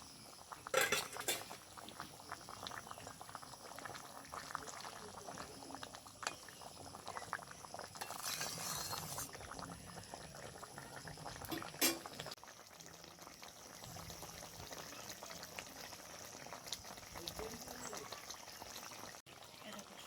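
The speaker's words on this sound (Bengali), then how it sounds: "মাছ দিয়েও বেশ খানিকক্ষণ ফোটাতে হবে" Pomfret fish curry with mustard bubbling in a pan, a soft continuous simmer with faint popping and occasional clinks of a utensil, low in level throughout.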